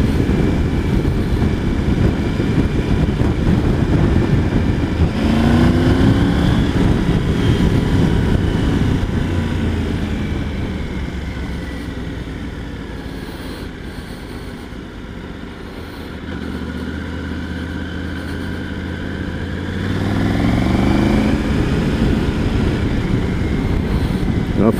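Triumph Tiger 900 GT Pro motorcycle riding with a steady, loud engine drone and wind roar, several engine pitch sweeps marking quickshifter gear changes, rising and falling through the ride.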